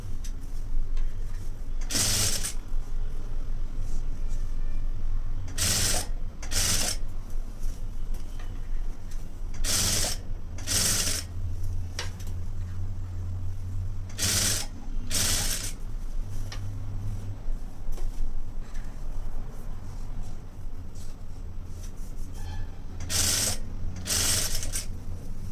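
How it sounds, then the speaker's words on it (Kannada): A sewing machine stitches the hem of a plain blouse in short close bursts, its mechanical rattle starting and stopping several times, with a low motor hum running under part of the stretch. "ಈ ರೀತಿ ನೀಟಾಗಿ ಸ್ಟಿಚ್ ಹಾಕ್ಕೊಂಬಿಡಿ"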